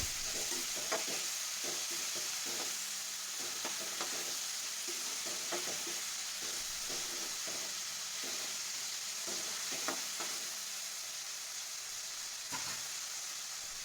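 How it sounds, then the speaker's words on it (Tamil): Tomatoes, onions and cashews sauté in a pan for paneer butter masala, giving a steady soft hiss of frying with light scraping stirs recurring throughout and no voices. "தக்காளி, வெங்காயம், அந்த முந்திரி பருப்பு எல்லாம் ஒன்று போல் வதங்கணுங்க."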